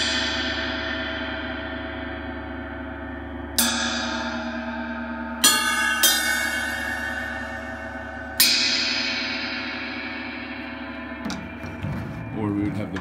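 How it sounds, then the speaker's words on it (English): A vintage Paiste 30-inch gong is struck several times, each hit a sharp attack followed by a long shimmering, slowly decaying wash, with later strikes layering over the ringing tail; close and resonant. "and then the gong."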